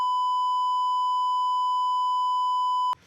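A steady, loud censor bleep tone holds for about three seconds to cover a swear word on a football podcast, then cuts off sharply into faint room noise.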